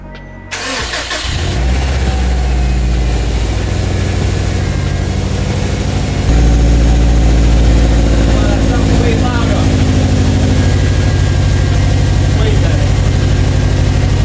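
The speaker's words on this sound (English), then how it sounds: "We're gonna start the car, start burping the coolant." A 2007 Subaru WRX STI fitted with a new catless downpipe and up-pipe cranks over and starts, then settles into a loud, steady, rumbling idle up close, getting slightly louder partway through.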